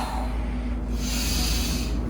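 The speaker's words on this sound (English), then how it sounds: "Go ahead and exhale." A loud, close breath pushed out during an at-home workout, one long broad whoosh of air lasting a couple of seconds with a steady low rumble underneath.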